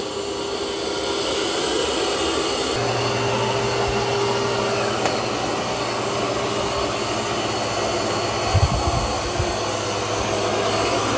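Eufy X10 robot vacuum running over carpet with mop pads lifted and suction raised, giving a steady loud whirring drone that shifts up in pitch partway through, with a brief bump near the end.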